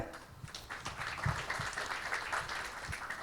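Audience applause greets panelists as they are introduced at a business conference on financing and managing a company's growth from small firm to large enterprise, a soft, steady wash of clapping throughout, with a speaking voice faintly underneath.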